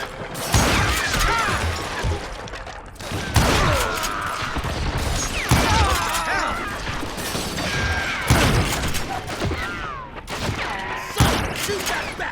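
Gunfire in Call of Juarez Gunslinger: repeated loud shots and clattering bursts spread across the whole stretch, with sharp transients and mechanical clicks between them, set in a noisy action scene of the western shooter game.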